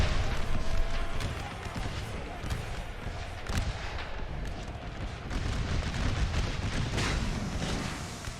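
Artillery fire in an American Civil War battle game set at Gettysburg, a Napoleon Total War mod: a steady rumbling barrage of booms and cracks throughout, with faint voices mixed in.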